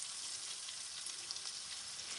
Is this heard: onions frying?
yes